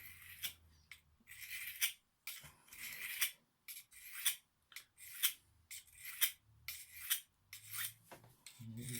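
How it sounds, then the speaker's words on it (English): A knife drawn repeatedly across a sharpening rock, crisp rasping strokes in a steady back-and-forth rhythm with brief pauses between them, close and clear with no talk. "So I'm going to start now just drawing the knife to see what it's like across here."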